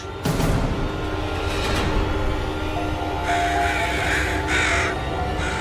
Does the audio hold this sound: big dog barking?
no